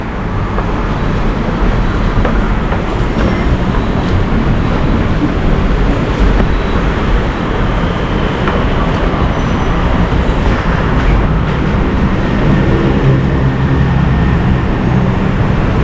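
Steady, loud rumble of an underground MRT metro train moving through a tunnel in Thailand, a continuous low roar with rattling, no voices standing out.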